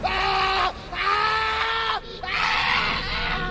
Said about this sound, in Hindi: जब उससे सहन नहीं हुआ तो उसने सारी हिम्मत इकट्ठा करके जोर से चीख लगाई।